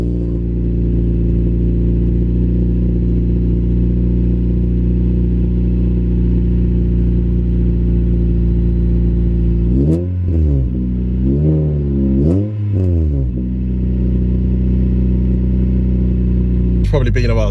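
Honda Civic EP3 Type R engine revving hard from inside the moving car, a loud steady drone broken by several sharp rev rises and falls near the end.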